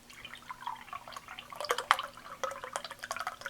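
Elderberry liquid pours into dissolved gelatin, a close, soft irregular trickle and splashing that grows busier partway through, with no talking.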